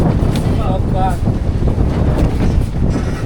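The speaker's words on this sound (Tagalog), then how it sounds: "So medyo malakas yung hangin." Heavy wind on Magalawa Island, Zambales, buffets the microphone in a continuous roar, with faint voices and a brief tonal sound barely audible underneath.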